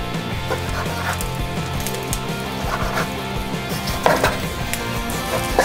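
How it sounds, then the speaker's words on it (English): A knife cuts chicken breast on a cutting board in a home kitchen, giving a few scattered, irregular chops and knocks under steady background music. "Now let's cut up the chicken breast."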